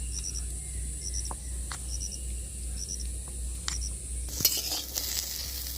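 Potatoes and jackfruit seeds sauté in a pan with an occasional stirring scrape over a soft, steady sizzle, while rhythmic insect chirps repeat in the background.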